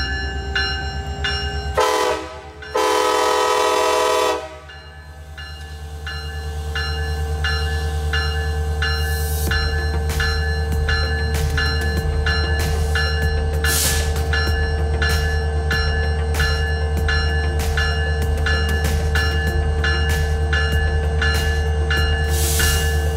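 A train passes near Talkeetna, Alaska, with a sustained low rumble of wheels on rails and a rhythmic clatter of cars going by, plus short horn blasts near the start, loud and close throughout.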